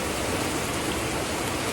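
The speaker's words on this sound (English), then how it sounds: "Even though it's raining hard, they're still coming in and getting a drink of the nectar." Heavy rain pours down in a steady, dense hiss with no breaks, continuous and fairly loud, and no voices over it.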